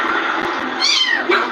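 A cat meows loudly and close by, a couple of drawn-out, rising and falling cries with a shorter second call, over a steady background hum.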